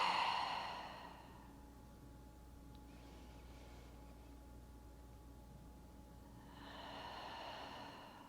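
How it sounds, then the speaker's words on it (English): Slow, deep breathing during a yoga flow practice: one long exhale at the start, a quiet hold, then another audible breath near the end, soft and close. "big breaths in and out"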